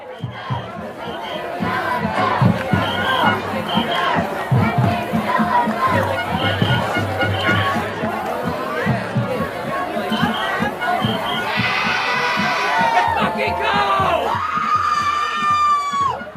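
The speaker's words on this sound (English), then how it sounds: "you hear them cheering while he's doing it. They're cheering him." A crowd cheers in support of Hamas, a dense mix of shouting, chatter and excited cries including children's voices, loud and continuous, with shrill whistling or screams rising near the end.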